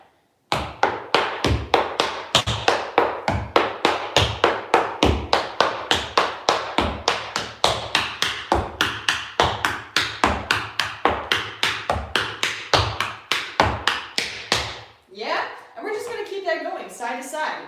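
Tap dance steps in a steady, rapid stream of crisp, close taps through a triple and full lap heel, the loud clicks running evenly for most of the clip before a voice takes over near the end.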